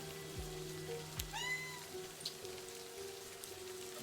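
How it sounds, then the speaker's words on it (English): A cat meows once, a clear mid-pitched call in the video game Livber: Smoke and Mirrors, heard against steady rain and a low ambient hum with faint clicks. "Meow."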